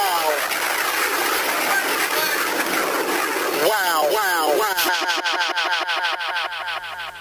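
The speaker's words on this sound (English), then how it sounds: "I added some erosion to kind of change it up and give it like a nice, super gritty 8-bit sound" Gritty 8-bit-style beat processed with an erosion effect, harsh buzzy digital texture that breaks into rapid stuttering repeated pulses near the end, loud and close without talk.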